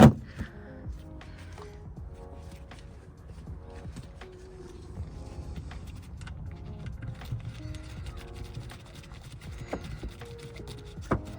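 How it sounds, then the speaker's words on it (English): Screws being driven back into the housing of a low pressure fuel pump on a BMW, giving a steady run of small metallic ratcheting clicks and scrapes, close and moderately loud, with no talking. "All you gotta do is put the screws back in."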